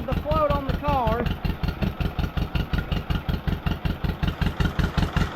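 A 1953 John Deere 40 tractor engine idles nearby with a loud, even, pulsing chug; a voice briefly sounds over it at the start.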